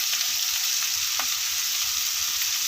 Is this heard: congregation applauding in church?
no